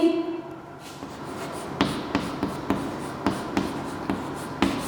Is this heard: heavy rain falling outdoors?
no